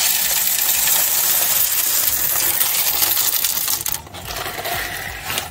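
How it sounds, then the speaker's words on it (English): Coffee beans poured into the bean hopper of a DeLonghi Eletta cappuccino coffee maker, a dense continuous rattling patter of hard beans spilling for about four seconds before thinning out, close and fairly loud with no talking. "Do you want to put the coffee beans in whilst?"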